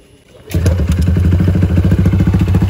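A motorcycle engine starts abruptly and settles into a loud, close, rapid popping idle with a rough rhythmic thump.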